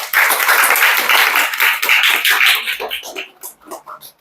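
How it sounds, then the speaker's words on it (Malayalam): An audience at a family-meet motivational training session claps loudly and densely, then the applause thins into scattered, fading individual claps. "കൈയടി കൊടുക്കണം"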